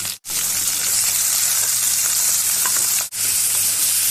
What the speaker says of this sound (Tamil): வெங்காயம் தக்காளி இது எல்லாத்தையும் நல்லா வதக்கிக்கலாம்